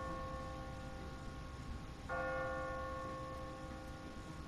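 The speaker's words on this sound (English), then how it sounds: "No one's ringing that bell. It's automatic. On a timer." A church bell in The Walking Dead video game tolls automatically on a timer, heard as steady sustained ringing tones with a fresh strike about midway, moderately distant over a constant low background hum.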